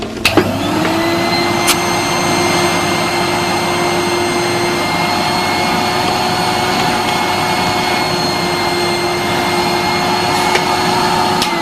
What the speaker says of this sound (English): I need to hoover.